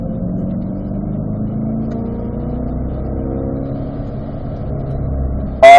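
Car engine pulling along the straightaway of the Spring Mountain racetrack, a steady droning hum with rising tones as it accelerates in third gear, loud and continuous, with a brief sharp noise at the very end.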